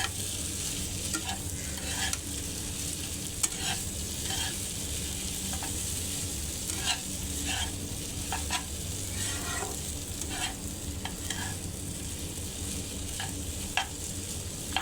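Noodles frying in a pan, a continuous bright sizzle under repeated scraping stirs of the utensil against the pan at an irregular pace, close up and without talk.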